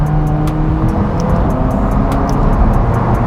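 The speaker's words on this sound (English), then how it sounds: "And now I'm upshifting with my left." McLaren engine heard from inside the car on a test drive while upshifting from second gear, a loud steady drone with faint rhythmic ticking over it and no talking.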